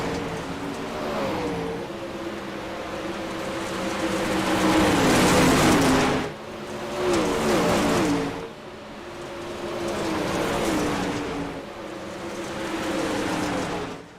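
Race cars at the Knoxville dirt track roar past in waves, engines surging and fading as they go by, with a constant snarl of several cars together.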